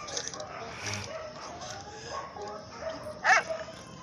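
Dog heard in a video game, giving soft yips and whimpers with one brief louder bark-like burst near the end, mixed with background game sounds and someone talking.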